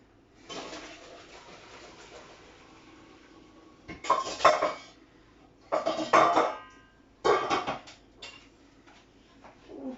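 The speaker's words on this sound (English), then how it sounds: "we want to drain these off" Cooked tortellini drained from a pot: quiet rustling gives way to three loud bursts of metal clatter and rushing pour, each lasting about a second, close by.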